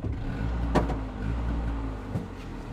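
An auto rickshaw's engine runs, giving a steady low drone with a rough, pulsing texture. A few sharp knocks or clatters cut through it.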